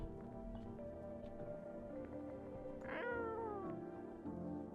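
A cat meows once in the horror game No, I'm Not Human, a clear drawn-out mew rising then falling over a steady low ambient drone and music.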